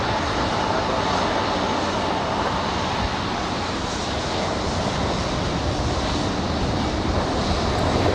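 A Delta airliner on its landing at Raleigh Durham International airport gives a steady, loud roar of jet engines and rushing air that holds evenly throughout, with no voices.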